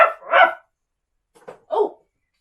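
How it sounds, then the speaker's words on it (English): Dog barking close by: two quick barks, a pause, then two more, sharp and clear against silence. "Oh, and a dog called Jack"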